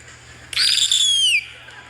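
A person imitates an eagle's cry with one loud, piercing, high-pitched screech that holds for almost a second and then slides downward before cutting off against quiet room noise.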